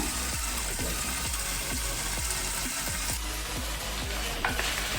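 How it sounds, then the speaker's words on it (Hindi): Chicken frying in a pan with onion, garlic and ginger paste, a steady close sizzle with a run of soft rhythmic scraping or stirring taps, with no voices. "चिकन जो है बिल्कुल फ्राई हो चुका है और बिल्कुल गोल्डन हो चुका है अच्छी तरीके से"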